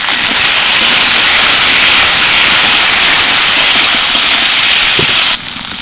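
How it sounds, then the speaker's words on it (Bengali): Ginger, garlic, onions, green chillies, tomatoes and cashews lightly frying in a pan for butter chicken make a loud, dense, continuous sizzle that drops off abruptly just before the end. "এবার সব কিছু হালকা ভেজে নেব"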